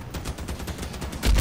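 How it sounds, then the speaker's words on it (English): Vector machine guns firing during a bonus round of a video game, a fast continuous stream of close shots with a heavier thump at the end. "We got our vector machine guns."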